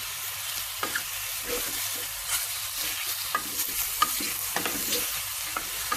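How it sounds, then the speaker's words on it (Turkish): Lamb meat sautéing in a little oil sizzles steadily in a pan, a close, continuous hiss broken by scraping stirs and small pops, with no talking. "E, çok az üstüne yağ koyuyorum. Ve kavurmaya başlıyorum."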